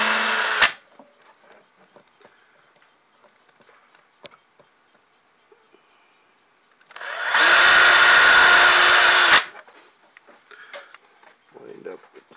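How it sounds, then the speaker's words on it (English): A small power drill pre-drills a hole in wood on a model railroad module, whirring loudly for about two seconds after a brief burst at the start, surrounded by quiet handling clicks. "So then I take my little drill"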